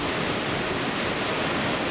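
Steady broadband rush of water pouring from an Archimedes screw at Topcliffe weir, running down the river's right bank; a continuous, even wash of flow with no voices.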